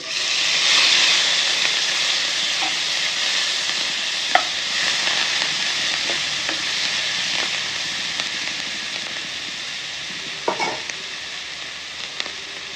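Onion paste fries in a pan, hissing loudly and steadily, with occasional soft clinks and scrapes as it is stirred.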